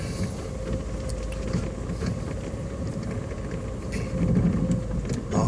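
A car rolls slowly along a rural dirt track with tractor ruts, giving a steady low engine and tyre rumble with wind noise throughout, close and continuous.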